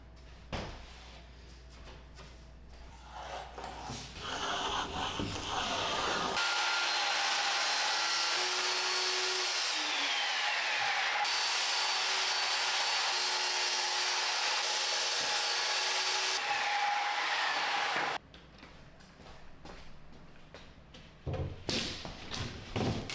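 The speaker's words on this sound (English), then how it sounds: "I just cut out around the metal rods." A circular saw cuts half-inch plywood for a DIY kitchen island in a sunroom, a loud continuous whine lasting about twelve seconds, preceded and followed by quieter handling and shop noise.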